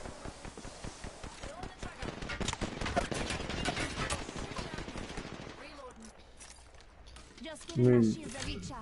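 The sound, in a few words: gunfire in a video game firefight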